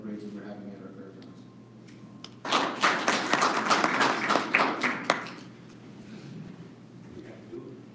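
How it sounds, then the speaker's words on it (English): Audience at a community meeting, thanking people for upgrades at the fairgrounds, breaks into a burst of clapping lasting about three seconds after a voice speaks, then fades back to a quiet room with talk. "So a lot of applause for your efforts"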